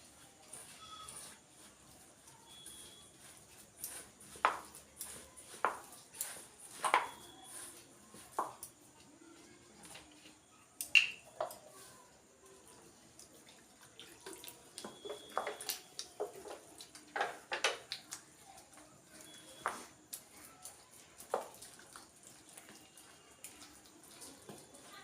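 Food being mixed by hand in a bowl with added water: soft wet squelches and splashy slaps come in irregular bursts throughout, faint and close, with no talk.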